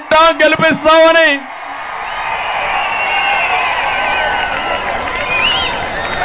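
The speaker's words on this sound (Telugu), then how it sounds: "గెలిపిస్తామంటే గట్టిగా చప్పట్లు కూడా చెప్పండి" Political rally crowd in Telugu-speaking setting: after a brief spoken phrase, sustained applause and cheering rise and hold steady, a broad dense roar of clapping with scattered whoops continuing to the end.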